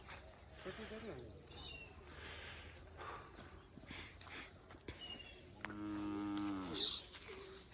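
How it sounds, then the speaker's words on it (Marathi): A buffalo on a farm lets out a long, loud low moo near the end, after scattered background voices and bird calls. "ती म्हैस वरडायला हिला इकडं आणलंय म्हणून"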